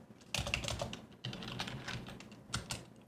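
Keys clatter on a computer keyboard in three quick bursts of close, light tapping separated by short pauses.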